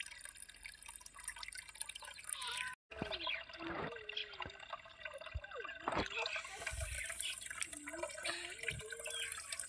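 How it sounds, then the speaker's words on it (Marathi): Cleaned katla fish pieces are rinsed in water, with close splashing, sloshing and scattered drips over several seconds, quiet overall. "आता हे मासे आपल्याला 2-3 ते पाण्याने स्वच्छ धुवून घ्यायचे आहेत."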